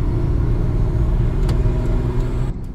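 Toyota Supra engine giving a deep, loud rumble close by that holds steady with slight surges over a few seconds, then eases off at the end.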